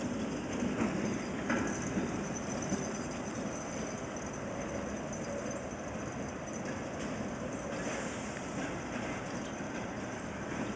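Streetcars rolling along tracks at the Baltimore Streetcar Museum, above the Baltimore Beltline rail line, give a steady, continuous rumble with light rattling, moderately distant and constant for the whole stretch, with no voices.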